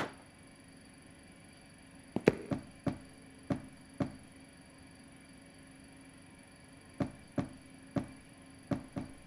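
In a German children's cartoon, a window bangs open and shut in the wind, sharp wooden knocks arriving in irregular clusters of two or three, close and distinct against a quiet background.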